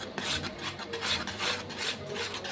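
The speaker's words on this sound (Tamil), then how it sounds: "இதையும் நல்லா மிக்ஸ் பண்ணிக்கலாம்." Thick tomato getti kolambu curry being stirred in a pan, a steady rough scraping and rasping of the spoon against the metal, close and continuous with no talking.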